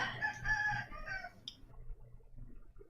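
A rooster crows once in a drawn-out call that fades away, moderately loud, followed by quiet room background.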